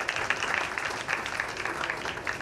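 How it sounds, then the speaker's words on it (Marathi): An audience at a memorial lecture applauds to welcome the dignitaries present, steady and fairly soft clapping from a room full of people, continuous across the whole stretch with no speaking. "सर्व उपस्थित मान्यवरांचं जोरदार टाळ्या वाजवून आपण स्वागत करूया"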